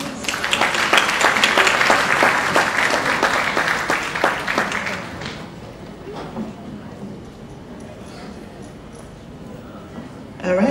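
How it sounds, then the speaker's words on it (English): Loud, dense applause from a large audience at a music award ceremony fills the first half, then fades into scattered claps and murmuring. "Give us a round of applause."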